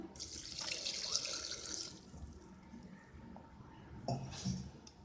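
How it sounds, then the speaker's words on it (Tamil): Water splashes and gurgles as a tumbler of water is poured into a pot of salted brinjal chutney, a short rushing pour followed by quieter trickling and a second brief splash. "ஒரு டம்ளர் தண்ணி ஊற்றிக்கலாம்"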